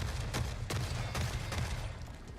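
An auto shotgun firing in the video game The Forever Winter, four or five heavy blasts spaced about a third to half a second apart, loud and close over a dense rumbling background.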